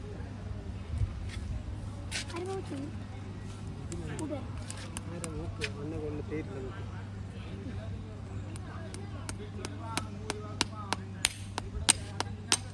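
A horse is shod with nails driven in, giving a series of sharp metallic hammer taps that grow faster and more regular toward the end, over a steady low hum with people talking nearby.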